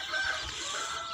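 Chicks and chickens on a poultry farm cluck and peep in a soft, scattered chorus, with faint background noise and no talk.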